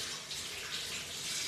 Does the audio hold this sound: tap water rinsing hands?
yes